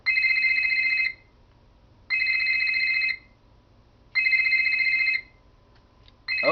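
A phone rings in the Nancy Drew game Ghost of Thornton Hall: three loud, even electronic ring bursts about two seconds apart, each lasting roughly a second, with a fourth beginning at the end, no voices.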